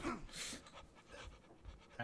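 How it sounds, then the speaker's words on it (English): Heavy, ragged panting from the Cry of Fear video game, a quick run of close, breathy gasps that carries on through the whole short stretch with no talk over it. "That noise is disturbing, that heavy panting."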